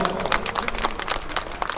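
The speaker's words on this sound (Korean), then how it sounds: "인사드려서 박수 한번 주십시오" An audience at the 32nd Seongnam citizens' song festival claps loudly and steadily in a brief burst of applause, the dense patter of many hands filling the hall.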